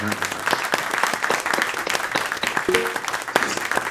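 Congregation applauding inside a Korean church in Vienna, a steady burst of dense hand clapping filling the room from start to finish, with a brief voice sounding partway through.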